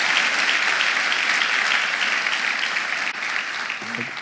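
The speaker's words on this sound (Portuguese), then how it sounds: "Vamos lá, aplauda bem forte," A church congregation claps loudly and continuously, a dense, bright wall of applause with a brief dip partway through and a faint voice under it near the end.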